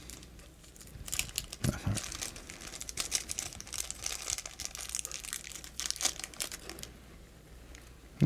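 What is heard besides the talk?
taking item out of a plastic bag, crinkling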